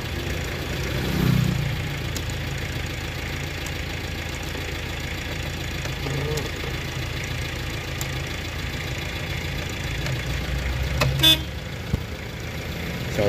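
A short car horn toot from a Toyota Tamaraw FX sounds near the end over a steady idling engine hum, with occasional clicks.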